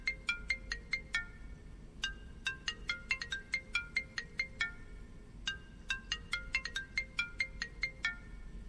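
A phone ringtone plays in repeated bursts of bright electronic beeps, quick rhythmic clusters with short pauses between them, fairly faint and clean with no talking over it.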